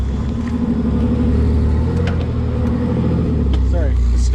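A rock crawler rig drives up a driveway at the start of a trail, its engine giving a steady, loud low rumble that swells slightly near the end.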